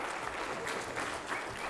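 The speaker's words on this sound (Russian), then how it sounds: "Вы как-то слабо аплодируете." An audience at a Ramadan gathering in Derbent, Dagestan gives faint, thin applause, a steady patter of scattered clapping throughout.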